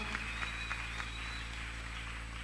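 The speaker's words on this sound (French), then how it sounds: "Acclamons pour la bonne lecture." A church congregation claps after a scripture reading, a steady, moderately distant patter of many hands over a low continuous background hum.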